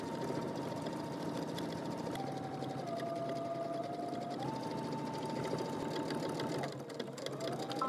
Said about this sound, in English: we're going to be stitching 1/4 inch away from our seam around our cup through all thickness.